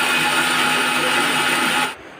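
A mixer grinder whirs loudly and steadily while grinding roasted onion and coconut for a spicy shev bhaji, running for a couple of seconds before abruptly cutting off.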